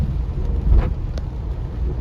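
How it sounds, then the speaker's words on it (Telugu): Heavy rain drums steadily on a car during a journey, a dense low wash of downpour with a brief swell near the middle and a faint rumble, no talk. "ఇలాంటి వర్షాలు చూడండి"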